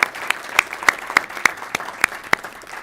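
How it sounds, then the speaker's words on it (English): Applause at a school board meeting, heard as a sparse run of sharp, evenly spaced claps, fairly close and loud against a quiet room, with no talk over it. "Let's give Scott a round of applause."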